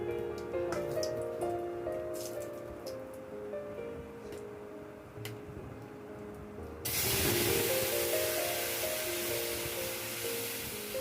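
Mung dal is poured into a hot tempering of whole cumin and dried red chillies, setting off a sudden loud, sustained sizzle after a few seconds of quieter kitchen clatter.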